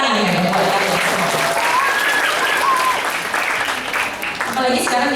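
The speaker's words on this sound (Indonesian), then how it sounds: "Tepuk tangan ya buat kalian semua" Loud applause from an audience honouring health students, continuous and full, with some talk and cheering mixed in underneath.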